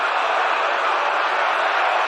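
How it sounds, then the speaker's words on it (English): A baseball stadium crowd roars after a game-winning home run, a loud, sustained wall of cheering and crowd noise with no breaks. "Listen to this crowd."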